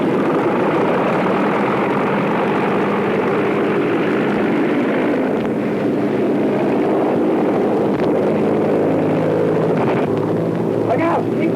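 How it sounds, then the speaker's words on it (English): A propeller airplane engine drones loudly and steadily in the soundtrack of a 1932 action film, with a rough, wind-buffeted roar throughout. A voice briefly rises under the engine noise near the end. "Larry Baker's on the plane"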